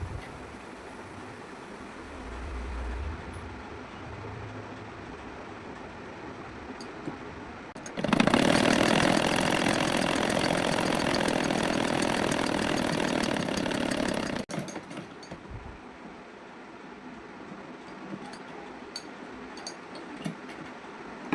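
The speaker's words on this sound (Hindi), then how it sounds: "मोड़ते हुए अब इसके ऊपर हमें सिलाई लगा देनी है।" A sewing machine runs steadily for about six seconds while stitching the folded neckline of a round-neck blouse. The whirring motor sound starts and stops abruptly, with quiet room noise on either side and no talk.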